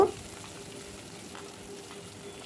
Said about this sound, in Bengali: কড়াইতে দিয়ে দিয়েছি ভেজিটেবিল অয়েল এই তেলে আমি পেঁয়াজ কুচিগুলো দিয়ে দেব